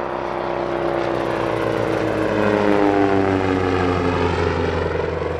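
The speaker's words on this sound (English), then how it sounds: "the Provost T1, a military training aircraft of the early 1950s" A Percival Provost T1, an early-1950s military piston-engine training aircraft, drones with a loud, steady propeller roar and pitch shifting slightly as it passes at an airshow.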